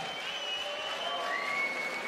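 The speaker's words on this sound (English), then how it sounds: "Let's give a big round of applause for both of these warriors." Crowd applause at a boxing event after a national title fight, a steady wash of clapping at moderate distance with no clear voices over it.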